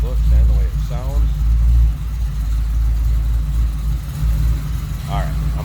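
1965 Ford Mustang Coupe engine running with a loud, deep, steady rumble close by, while someone talks over it.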